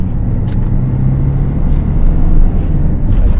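A car engine runs steadily while driving through the gears during a basic driving lesson, a continuous low rumble with a slight swell in loudness, close and without talk.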